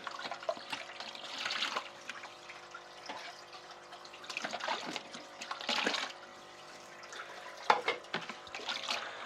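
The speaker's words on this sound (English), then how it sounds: "I'm going to rinse it" Water splashing and trickling as a container is rinsed out for an aquaponics fish tank, intermittent close bursts of running water with small clinks, no talking.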